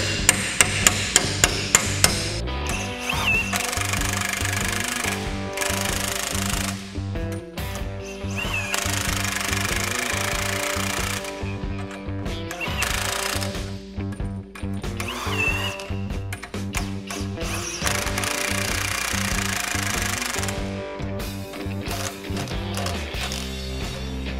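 A hammer taps the U-bolt plates of a 4-inch Rough Country lift kit on a 1977 International Scout II. A quick run of sharp metallic strikes opens, followed by dense, continuous banging and clatter, close and loud.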